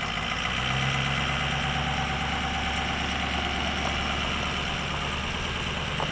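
A 2006 Ford F-350 Super Duty diesel truck idles loudly and steadily up close, its deep rumble and mechanical clatter running continuously without a break.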